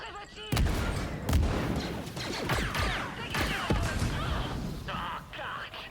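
Blaster fire in the Star Wars Outlaws video game rattles in dense, continuous volleys with sharp bursts, under faint in-game voices.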